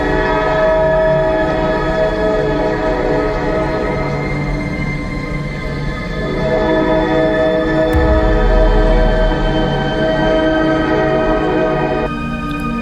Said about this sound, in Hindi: तब चिंटू को ट्रेन की आने की आवाज आती है, तो चिंटू वहीं रुक जाता है ताकि ट्रेन पास हो जाए।